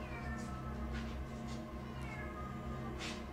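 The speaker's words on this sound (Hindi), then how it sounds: "ये बिल्ली हमारे पीछे दिखाएं जल्दी" A cat meows repeatedly in short, faint calls at uneven intervals, heard against a loud steady hum and background noise, with no talk.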